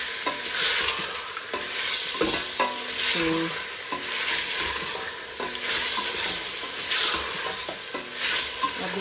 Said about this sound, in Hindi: अब देखिए मेरा अदरक लहसुन भून चुका है अच्छे से